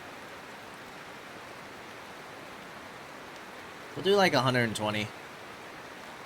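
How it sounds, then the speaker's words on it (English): Rain in the video game Mount & Blade 2 Bannerlord makes a steady, even hiss that lasts the whole time, while someone speaks briefly over it. "Ooh, the rain."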